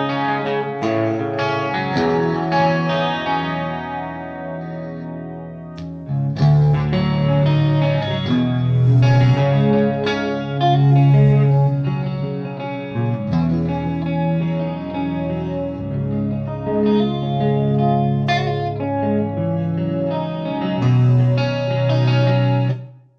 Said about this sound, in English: Here comes the Corona chorus.